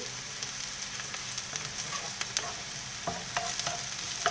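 A single chopped onion sweats in a pan over medium heat, giving a soft, even sizzle with occasional spatula scrapes and light taps throughout.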